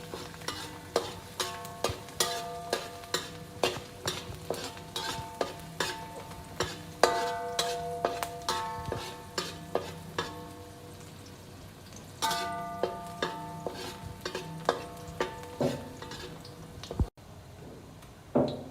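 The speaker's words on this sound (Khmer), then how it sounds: "ចាខ្លាញ់ក្តៅឥឡូវខ្ញុំដាក់ចានេះតែម្ដង ខ្ទឹមសបងប្អូនហ្នឹង" Garlic fries in hot fat while a utensil scrapes and stirs it in the pan, producing a steady rhythm of sharp metallic clinks over a constant low sizzle.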